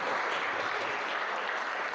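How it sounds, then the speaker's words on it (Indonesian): An audience at a leadership seminar in Singaparna, Tasikmalaya breaks into dense, even applause, a steady wash of many hands clapping at moderate volume for about two seconds with no voices on top. "Tepuk tangan untuk kita sapa."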